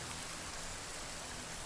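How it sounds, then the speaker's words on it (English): Heavy rain falls steadily at night in the survival video game The Forest, a dense, even wash of drops with no talk over it. "this rain's pretty wicked"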